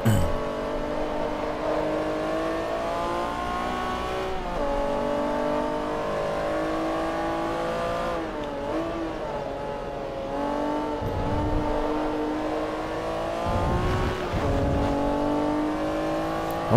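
A race car in Forza Motorsport 3 accelerates hard, its engine note climbing steadily through the gears with brief dips at the shifts, loud and close throughout with no talking.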